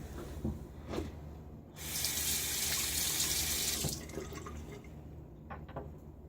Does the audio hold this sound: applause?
no